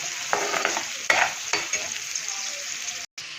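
Red masala roasting in a pan for paneer masala crackles and sizzles up close, with a few sharp stirring strokes and a brief drop out near the end.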